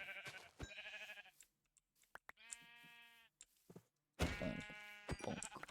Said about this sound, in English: I think they were sheep, they were just loading in weirdly.